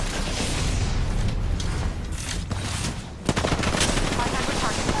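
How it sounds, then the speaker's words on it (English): Rapid automatic gunfire rattles in a shooter video game, dense bursts with a short lull before firing resumes, close and loud throughout. "Opening fire."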